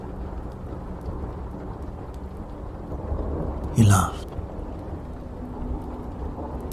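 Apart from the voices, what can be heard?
rain and thunder ambience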